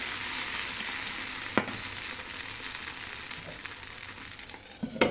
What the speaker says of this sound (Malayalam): ഒരു തവി മാവ് ഇതുപോലെ കോരി ഒഴിച്ചു കൊടുക്കാം